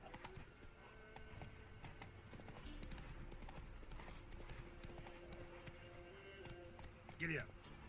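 Roach the horse gallops in The Witcher 3, a steady rhythmic clip-clop of hooves running through the whole stretch over a constant backdrop of game ambience, with a brief brighter sound near the end.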